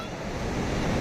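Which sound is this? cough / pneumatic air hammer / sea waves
sea waves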